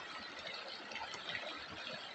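River water flows steadily near a village beside rice fields, a continuous broadband rush close by with no talk.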